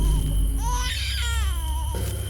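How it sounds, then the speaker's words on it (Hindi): A baby wails in a horror story sound effect, a loud rising cry with wavering pitch that breaks off and restarts over a low hum, with no speech. "वहीं से रोने की आवाज आ रही है।"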